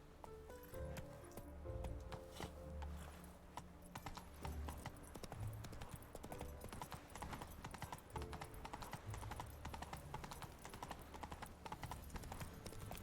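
A horse's hooves clip-clop steadily in The Witcher 3 video game, a continuous walking rhythm heard against faint game ambience and a brief whinny.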